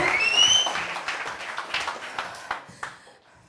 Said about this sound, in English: keep the clap going